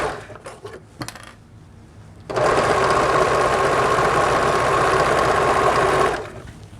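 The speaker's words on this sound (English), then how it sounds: "I'm gonna sew everything that I can and then deal with those last two ends" A sewing machine stitches a baby slipcover: a few small taps and clicks, then a steady, loud, whirring run of about four seconds that slows and stops at the end.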